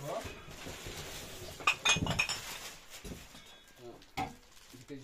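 Dishes, glass and cutlery clinking and clattering as an animal knocks things over in a house, a few sharp clinks and a louder clatter, heard under people talking.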